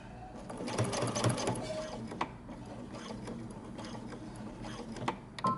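A sewing machine stitches a men's knit top, its needle running in a steady fast mechanical chatter close up, with slight changes in pace and a brief pause near the end, no talk over it.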